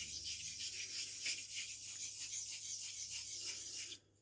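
A Hamburg ring straight razor scrapes in steady back-and-forth strokes across a heavy blue coticule stone during a bevel set, making a continuous, fairly quiet gritty rasp that stops abruptly at the end.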